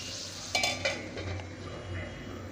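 Ghevda bean bhaji being stirred in a pan after steaming under a lid, with a couple of sharp clinks of a utensil against the pan followed by soft, continuous scraping and faint sizzling.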